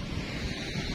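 Heavy wind rushes and gusts in a continuous low roar, buffeting the microphone steadily with no talk over it.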